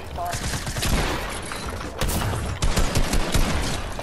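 A new shotgun in a video game fires in rapid repeated blasts, dense bursts of gunfire crowding the whole clip with loud sharp reports, mixed with other game noise.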